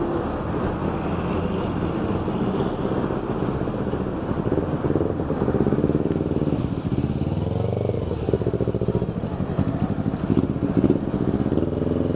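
A motorcycle engine runs nearby at a steady, rumbling idle with some variation in revs, mixed with wind buffeting and street noise.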